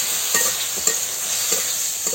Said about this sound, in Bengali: যে ভাজা ভাজা হয়ে গেছে, আর মাছগুলা দিয়ে দিচ্ছি, আর পেঁয়াজ বাটা